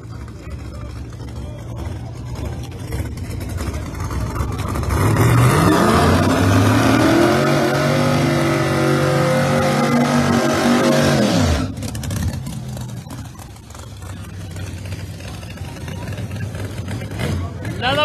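Mustang drag car launching at a $20,000-to-win 28-inch tire street car race, engine roaring loud and rising in pitch as it accelerates away, then cutting off abruptly, with crowd chatter and announcer talk underneath.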